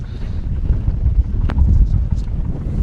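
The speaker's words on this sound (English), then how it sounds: "It is actually crazy windy out here right now." Strong wind on open water buffets the microphone aboard a Jones Brothers bateau boat in a steady, heavy roar, with a brief sharp knock partway through and faint water movement underneath.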